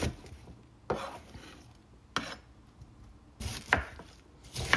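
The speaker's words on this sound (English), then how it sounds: "chop them into the bite-sized strips so they cook nicely and evenly" A knife chopping green cabbage into bite-sized strips on a cutting board, several crisp separate chops spaced about a second apart, close and fairly quiet, with faint kitchen background between strikes.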